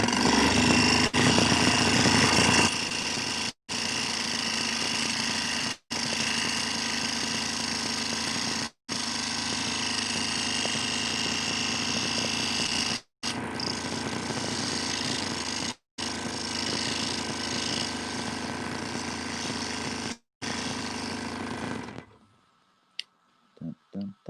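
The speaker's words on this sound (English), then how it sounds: "I just got to drill another drill in here." Power drill boring into a wooden scroll, running loud and continuous in long bursts with brief pauses between them, then winding down and stopping near the end.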